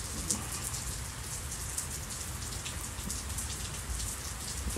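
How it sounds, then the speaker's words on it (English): Steady rain falls outside just beyond a porch, a dense constant patter of drops hitting surfaces, close and even throughout, with no voices. "it's raining behind me right now"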